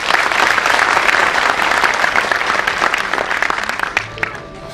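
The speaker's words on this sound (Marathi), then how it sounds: "आपण एकदा सगळ्यांनी सगळ्यांसाठी जोरदार टाळ्या वाजवूया" Loud, dense applause from a crowd at a Konkan festival stage event, sustained for several seconds and easing off toward the end, with faint voices underneath.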